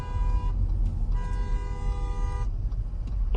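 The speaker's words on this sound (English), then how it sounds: "Someone honking at you?" A car horn sounds in two sustained toots, loud and close, heard from inside a vehicle while merging in traffic, over steady road and engine rumble.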